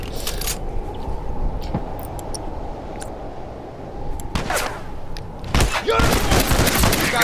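Gunfire in The Last of Us multiplayer, a post-apocalyptic survival shooter: a steady low rumble of background noise broken by a few sharp, loud shots near the end, the last ones in a quick close cluster.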